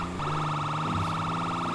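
A police siren in GTA 5 wails close by, holding a steady, loud tone for the full moment over a low vehicle rumble.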